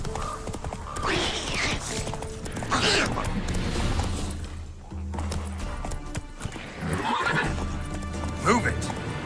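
A horse in The Witcher 3 video game gallops with rhythmic clip-clop hoofbeats and lets out loud whinnies, under a rider's spoken urging and creaking tack.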